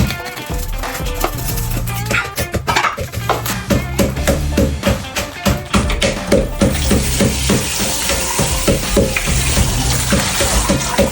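Dried beef skin frying with bamboo shoots in a pan sizzles loudly as it is stirred, with scraping and clattering over a continuous hot-oil hiss.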